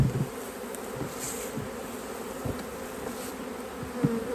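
Honey bees buzz steadily around hives at a honey farm apiary, a continuous near insect hum with a few soft knocks and rustles.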